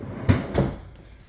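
Two quick thuds and a slide from the vegetable crisper drawer of a Bosch French door refrigerator being opened or closed, close and fairly loud, followed by quiet.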